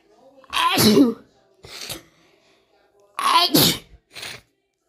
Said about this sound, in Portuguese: Espirrando aqui.